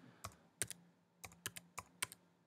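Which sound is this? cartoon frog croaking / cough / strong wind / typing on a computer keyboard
typing on a computer keyboard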